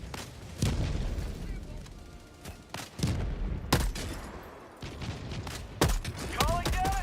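Video game gunfire and explosions in Helldivers 2, with repeated loud shots and booming blasts in bursts, some rapid fire, under a speaking voice.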